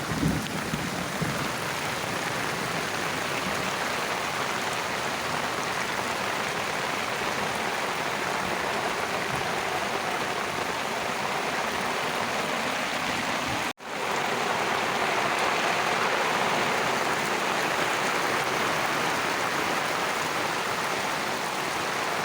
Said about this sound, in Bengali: আজকে বৃষ্টি হচ্ছে